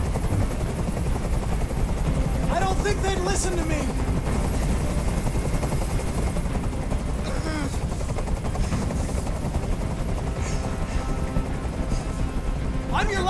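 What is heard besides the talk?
helicopter hovering overhead in the video game Detroit: Become Human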